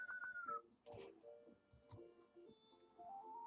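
A cat in a video game gives a few faint, short meows among soft game sounds, clicks and a thin whistling tone. The whole passage is quiet and short.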